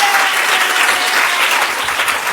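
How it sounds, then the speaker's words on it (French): Studio audience applause at a community event, a dense, steady wash of clapping that holds loud and even throughout with no talk over it. "Acclamez très très fort"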